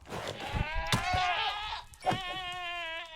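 A goat in the video game FTB Skies Expert gives a quavering bleat, then a second shorter one after a brief pause, fairly clear and close with no talk over it.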